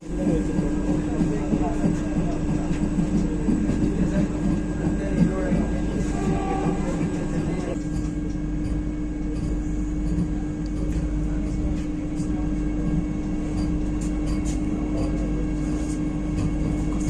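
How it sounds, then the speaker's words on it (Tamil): The inaugural Coimbatore–Bangalore Vande Bharat train runs at speed, giving a steady rumble and rattle, as a Shatabdi Express passes the other way; faint voices murmur in the background. "ஆப்போசிட்ல பாத்தீங்கன்னா சதாப்தி வந்துகிட்டு இருக்கு."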